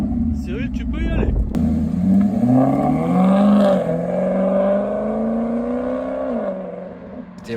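Maserati GranTurismo Trofeo V8 engine revving loudly and close, its pitch sweeping up and then holding a steady drone before easing off, with people talking over it.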